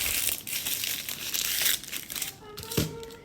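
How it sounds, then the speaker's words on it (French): Baking paper crinkles and rustles steadily as a sweet potato is wrapped, with a few sharper crackles near the end; faint voices murmur in the background. "je l'emballe dans du papier cuisson"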